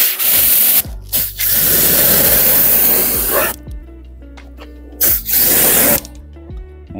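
Short bursts of wet rubbing and spraying as a small finger wash mitt scrubs the spokes of a Renault Megane's wheel, loud and close, broken by brief pauses between passes.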